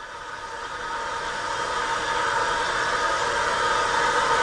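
An ST-270 substrate processing machine spins down with a continuous, loud mechanical whirring hum and a slight vibration. The sound stays steady throughout, with no voices.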